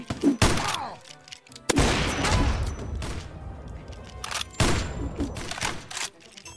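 Guns fire in the Roblox game Murderers VS Sheriffs: several sharp, loud shots and short bursts come at irregular intervals, each with a decaying tail.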